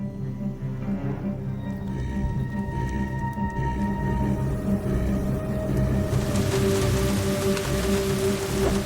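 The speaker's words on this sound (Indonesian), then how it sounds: "Sore harinya hujan mulai turun, tapi sepertinya ada yang aneh dari hujan tersebut karena airnya berwarna hitam." Rain falling steadily outdoors, a dense continuous patter of drops on surfaces that holds an even loudness throughout with a low rumbling backdrop, no one speaking.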